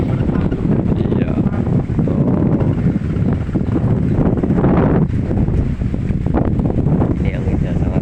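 Very strong wind buffets the microphone outdoors, a loud, unbroken roaring rumble with gusty surges and no letup across the whole stretch.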